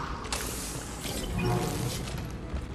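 A security shutter closing in Mass Effect 2, a loud mechanical rumble with grinding, clanking and creaking, swelling and settling over a few seconds amid game noise.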